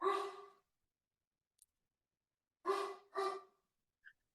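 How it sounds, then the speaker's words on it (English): A Great Dane barks in a few deep, separate bursts, one single bark followed by a quick double after a pause, with a faint yelp at the end and no talking. "I hear somebody's puppy. That's my Great Dane."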